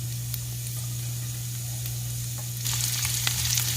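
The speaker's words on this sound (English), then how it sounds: "I'm going to saute these down. Let these saute down." Chopped cabbage sautes in a pan with a steady, close hiss and sizzle, the frying growing a little louder and busier near the end with faint stirring clicks.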